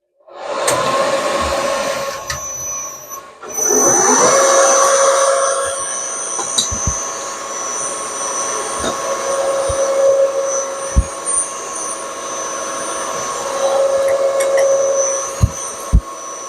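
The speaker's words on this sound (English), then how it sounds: "let's get this machine going and I'll touch off and I'll make a couple of cuts" A machine tool cutting metal steam valve chests in a workshop, whirring with a steady, loud drone that swells and eases between passes, with sharp clanks and knocks scattered throughout.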